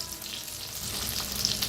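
Green chilies are stirred with garam masala and a little salt in a pan, a soft steady frying sizzle with light stirring scrapes, fairly quiet and close.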